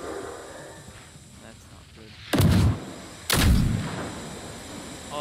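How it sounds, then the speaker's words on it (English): Robots firing smoke grenades in the video game Generation Zero, two loud booming launches about a second apart, each followed by a hissing tail, over quieter game ambience and a speaking voice. "They're shooting smoke grenades at me."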